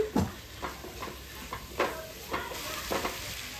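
A spiced mixture frying in oil in a pan while being stirred, soft scraping strokes recurring every half second or so over a low steady sizzle, close and fairly quiet, with no talking.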